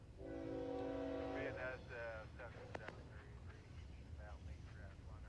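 Union Pacific trackage-rights train on the former Santa Fe line: a loud, sustained horn blast at first, then a steady low rail rumble under people talking.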